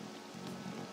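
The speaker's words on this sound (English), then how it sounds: "This rain ain't too bad." Steady rain falls in Persona 5 Royal, a constant broadband hiss of drops on surfaces with no voices, holding at an even level throughout.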